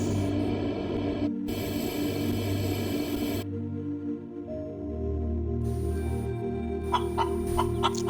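A chicken in the video game Breathedge clucks and squawks in loud bursts, followed by quieter mechanical game tones and a few short clicks near the end.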